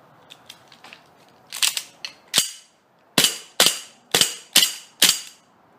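A gas blowback airsoft pistol fires a series of sharp, loud cracking shots with slide clacks, a few light mechanical clicks first, then six distinct shots at roughly half-second intervals, close and without speech.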